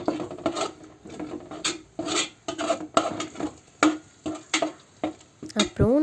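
A spoon stirs masala into a green chicken mixture in a metal pot with repeated scraping, rasping strokes in a steady rhythm, close by, with a few brief clinks.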